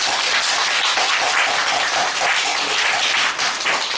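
A church congregation at a Christmas service breaks into loud, sustained applause, a dense even wash of many clapping hands with no gaps.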